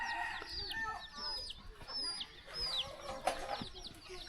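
Chickens cluck and call repeatedly at close range, with occasional sharper squawks, amid outdoor background noise in a remote forest village without electricity in Laos.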